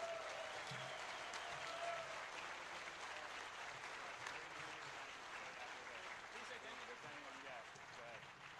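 Audience applause fills a DEFCON 13 hacker convention award ceremony, steady and sustained clapping from a large crowd with a few cheers, holding near full level throughout and easing off slightly at the end.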